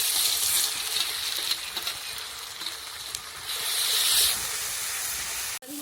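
Garlic-onion paste goes into onions frying in a pan of hot oil, producing a loud, continuous hissing sizzle nearby that swells briefly, then cuts off abruptly near the end.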